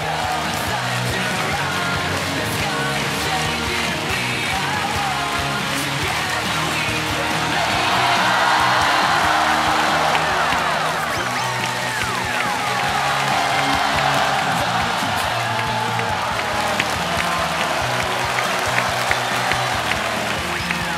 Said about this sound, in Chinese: 好，我们掌声请出